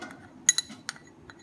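A spoon clinks against a bowl while raita of yogurt, salt and black pepper is stirred: a few light, close metallic taps, spaced irregularly over faint background hiss.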